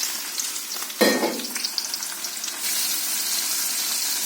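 Chopped tomatoes dropped into a pan of sautéing onions and curry leaves, a sharp burst of sizzling as they hit the hot oil, then a softer steady frying hiss with light stirring.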